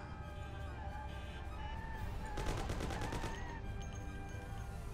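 Burst of gunfire in the Mafia video game, a rapid cluster of shots standing out briefly over a steady droning game background, moderately loud with no talking.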